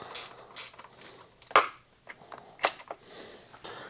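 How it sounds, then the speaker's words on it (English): A ratchet wrench loosens a triple clamp bolt on a Honda CRF300L motorcycle, giving close rapid clicking bursts in repeated strokes, with a couple of sharper metallic clanks between them. "after I get it broke loose, works better with a ratchet wrench here"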